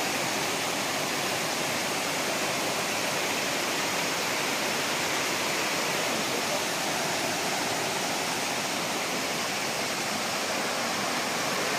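Pa Wai waterfall at Phop Phra in Tak, Thailand, a loud, dense, unbroken roar of falling water that stays constant throughout, heard close with no voices.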